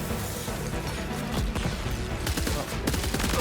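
Gunfire in the video game Death Stranding 2, a rapid burst of shots from a 30-round weapon with sharp cracks and clattering impacts, loud and dense, growing harsher toward the end.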